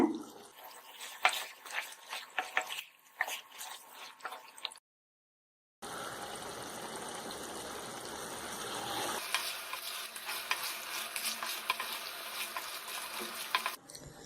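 Chicken masala fry (varuval) cooks in a pan on low flame and is stirred, with soft scraping strokes over a quiet sizzle. A brief silent gap breaks the sound partway through, then a steadier frying hiss continues.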